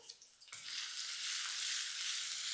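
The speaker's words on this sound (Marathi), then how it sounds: "तेल तापलं यामध्ये घालूया ठेचलेला लसूण पाहिजे तर जिरंही घालता येईल हिरवी मिरची त्याला परतूया" Crushed garlic and green chili hit hot oil while Marathi leafy-vegetable bhaji is being prepared. After a quiet half second the frying erupts into a loud, steady, close sizzle that continues unbroken without any talk.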